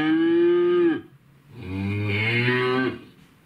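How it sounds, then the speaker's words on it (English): A Google Home smart speaker plays a recorded cow moo, two long, loud, low bellows separated by a short pause, heard alone. "Okay, Google, what sound does a cow make?"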